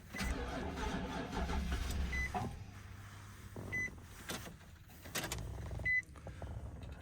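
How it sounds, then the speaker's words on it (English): A 2005 Nissan Titan pickup truck engine cranks and starts, then idles with a low rumble, joined by a few short electronic beeps and some clicks. "Let's try if we'll start the car"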